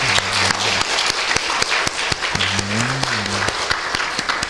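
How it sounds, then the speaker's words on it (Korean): A church congregation applauds in praise during a Sunday worship service, a steady, full wash of clapping from many hands with sustained low keyboard tones playing underneath. "우리 아버지 하나님께 영광의 박수를 드리겠습니다"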